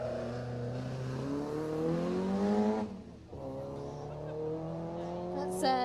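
A Peugeot 205 GTI rally car on a Jersey rally stage revs and passes close by, engine note rising and falling loudly with a brief lift around the middle, under commentary talk.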